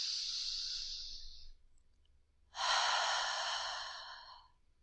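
Deep yoga breaths during a grounding session: a long, airy inhale fades, a short pause follows, then a stronger open-mouthed exhale, both close and quiet in an otherwise still room.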